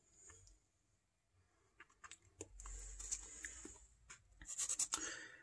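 Pencil strokes scratch and tap on paper while a Josh Allen picture is drawn by hand, quiet, close and irregular, with a faint high whine in the background.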